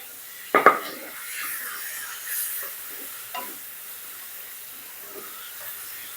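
Minced pork is stir-fried in a pan for a spicy Thai khua kling. A soft, steady sizzle and hiss run throughout, with a sharp knock of a utensil near the start and a few faint scrapes.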